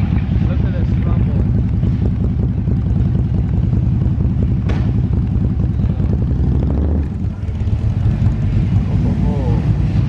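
Motorcycles sit idling close by before a ride, their engines giving off a steady, loud, low rumble that runs under wind noise on the microphone, with brief voices heard among the engine sound.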